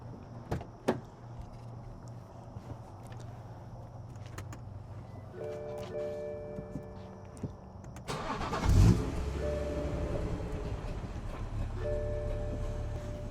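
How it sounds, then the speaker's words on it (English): A manual BMW 340i fitted with a catless downpipe and stock exhaust sits quietly amid a few clicks and thumps, then its engine fires with a sharp burst and settles into a low, steady idle. "Start the car and just make sure that the flap works and everything."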